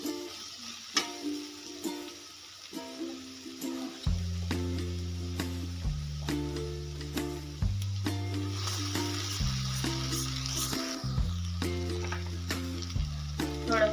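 Egg and Maggi spice mix frying in a pan, a close, steady sizzle with stirring scrapes, heard under a loud, continuous tonal background hum that shifts pitch in steps.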